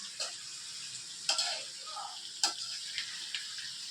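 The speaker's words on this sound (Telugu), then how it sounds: "నేనట్ట ఏగుతున్నా అట్నే మధ్య మధ్యలో ఇలా కలుపుతూ ఉండాలి" Bitter gourd pieces frying in a pan, with a steady soft sizzle and a few sharp clinks and scrapes as the pieces are stirred now and then. The sound is faint and close.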